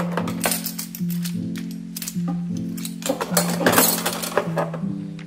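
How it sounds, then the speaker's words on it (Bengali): Metal spoons, ladles and spatulas clink and clatter in quick irregular bursts as they are placed one by one into a cutlery holder in a home kitchen, close and fairly loud. "যেহেতু আমি এরকম একটা কাটলারি সেট রাখার জিনিস কিনেছি, তাই এখানে সমস্ত কিছু সাজিয়ে দিচ্ছি।"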